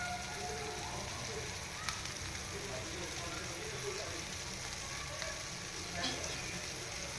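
Mandeli fish fry in hot oil in a pan, giving a steady, soft sizzle with faint crackles throughout, fairly low in level and continuous.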